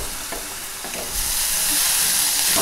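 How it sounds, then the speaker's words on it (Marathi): Chopped onion frying in a pan for a green tomato bhaji sizzles steadily, with stirring, and the hiss swells louder partway through and holds at a constant level. "त्याच्यामध्ये आधी हा कांदा घालते"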